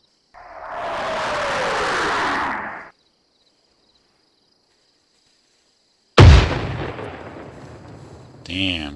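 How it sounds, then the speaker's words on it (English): Video game mortar artillery strikes: a loud whistling incoming round lasting a couple of seconds, then silence, followed by a sharp close explosion boom that decays into a lingering rumble. "We use the mortar for this."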